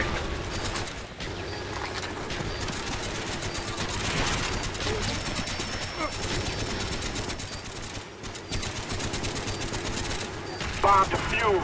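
Mortar strike barrage in Call of Duty: Black Ops, a dense stretch of continuous gunfire and explosive blasts layered with game voice chatter, loud and sustained throughout.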